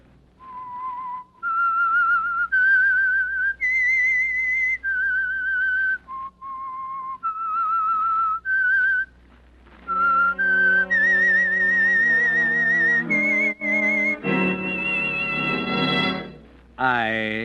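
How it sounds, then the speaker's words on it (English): A lone whistler performs the signature melody of the radio drama The Whistler, a sequence of clear sustained whistled notes stepping up and down, followed by a swelling orchestral chord at the end. "That whistle is your signal for the Signal Oil Program"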